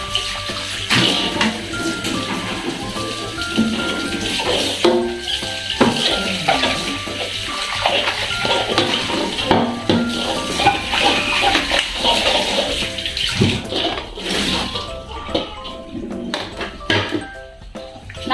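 Baby bottle and breast pump parts are washed under running tap water, with steady splashing and occasional clatter of plastic pieces close by, and a voice speaks now and then over the flow.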